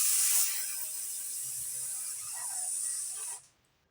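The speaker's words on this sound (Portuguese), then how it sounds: "Inspira e solta fazendo S." A long steady hissing 'S' exhalation in a flute breathing exercise, close and continuous for about three seconds before it cuts off into near silence.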